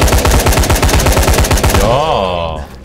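A gun in the zombie action game Dying Light fires a rapid, loud automatic burst of evenly spaced shots for about two seconds, then cuts off into a ringing, fading tail.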